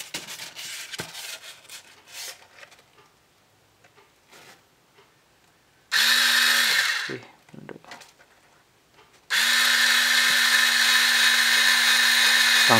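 Cheap mini drill with a freshly sharpened bit whirs up in two runs, a short burst and then a longer steady high whine, after some handling clicks and rustling.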